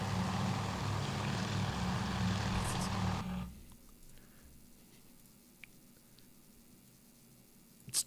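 Aircraft engine in the game Task Force Admiral: a loud, steady propeller drone for about three seconds, then it cuts away to a quiet background with a few faint clicks.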